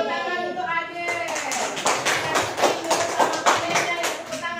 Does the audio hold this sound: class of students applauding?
yes